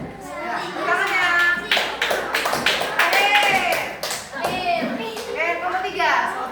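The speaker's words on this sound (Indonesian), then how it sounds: "Ya, tepuk tangannya." Children in a classroom clap their hands in short bursts of sharp taps, mixed with lively kids' voices chattering and calling out throughout.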